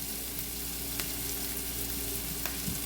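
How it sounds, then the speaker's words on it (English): Onions cook in a pan over medium-low heat for a risotto, giving a soft, steady sizzle with a few faint clicks and taps of a utensil. "we're just going to cook this over medium-low heat. Get that going in there, just until the onions are slightly translucent"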